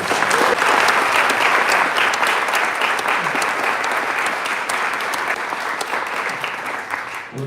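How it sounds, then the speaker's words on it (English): Sustained applause from a debate audience for two congressional candidates, loud and dense, steady throughout and tapering slightly near the end. "let's give both of the candidates a big round of applause"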